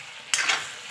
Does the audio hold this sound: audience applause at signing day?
no